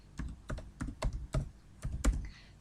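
Quiet, close typing on a computer keyboard while writing a document in MS Word: a handful of distinct key clicks in an irregular rhythm, with no talking.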